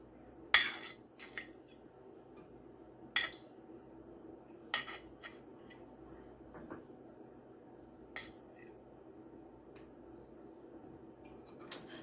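Occasional sharp clinks of cutlery against plates while egg gravy and boiled yam are served, a handful of isolated taps spread over a quiet kitchen background.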